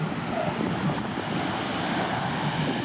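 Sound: sea waves on a beach in Greece

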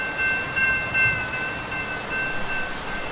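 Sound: train passing in Roblox video game

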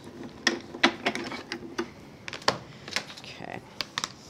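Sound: die-cutting machine cutting felt flower shape

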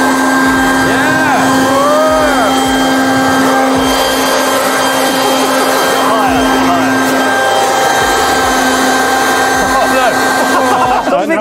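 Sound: air blower running, blowing paint onto canvas

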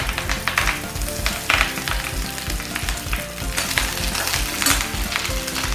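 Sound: curry leaves frying in hot oil

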